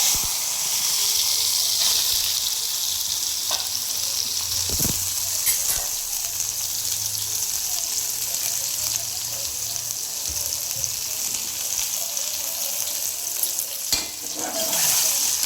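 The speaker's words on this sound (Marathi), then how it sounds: "आता आपण हे सोयाबीन फ्राय करूया." Soybean chunks fry in a pan with a steady, loud sizzle and hiss throughout, broken by occasional stirring scrapes and clinks.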